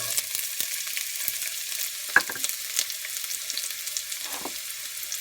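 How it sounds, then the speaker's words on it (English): Onions sizzle steadily in hot oil in a pan for cauliflower fried rice, a continuous crackling hiss with occasional sharper pops, heard close and alone. "Right now I'm gonna add my onions,"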